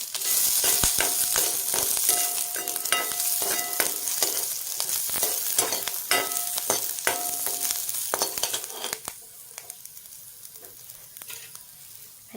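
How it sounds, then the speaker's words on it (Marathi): Ginger, garlic, green chili and coconut roast together in oil in a pan for Kolhapuri misal, with a steady bright sizzle and scraping stir strokes throughout that fade quieter toward the end. "आलं लसूण आणि हिरवी मिरची आणि खोबरं तर आपण हे एकत्रच भाजून घेऊया"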